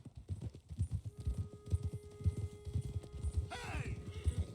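Horse hooves clip-clop in a steady rhythm in the Red Dead Redemption 2 video game, and a whinny rises near the end, close and clear with no talk over it.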